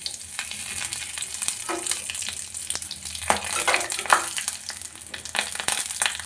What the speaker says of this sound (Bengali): এর মধ্যে দিয়ে দেবো 5 ফোড়ন, দেবো লং, এলাচ, দারচিনি